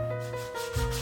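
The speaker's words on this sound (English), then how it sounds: "So much sanding to get all that flattened out" Close, steady sanding of balsa wood, a continuous rough rubbing scrape with slight strokes in its rhythm, no talking.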